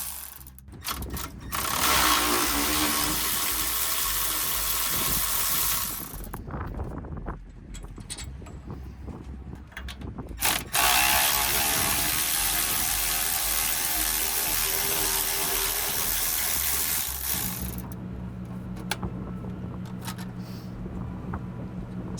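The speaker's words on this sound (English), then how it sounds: "Using a small impact gun" A small impact gun works loose the 15mm knuckle bolts on a 2007-2013 Chevrolet Silverado in rapid, rattling bursts, with three separate runs of hammering split by short pauses and tool handling.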